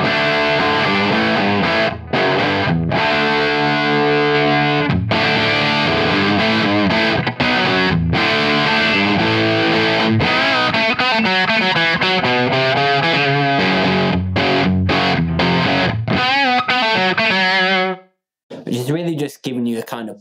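A distorted electric guitar played through a Two Notes Torpedo Captor X amp simulator plays chords and riffs loudly and continuously, with a brief pause near the end before a few more notes.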